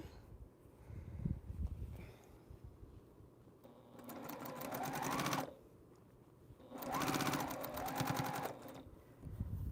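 A sewing machine stitches a commissioned T-shirt quilt in two separate bursts of rapid, even stitching, with quiet pauses between and before them.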